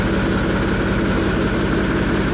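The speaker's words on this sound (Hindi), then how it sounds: "ट्रैक्टर स्टार्ट करके छोड़ दिया था, मारिया डांस चल रहा है ट्रैक्टर का" A tractor left idling after being started, its engine running steadily with a low, even, throbbing chug, close by, with no one talking.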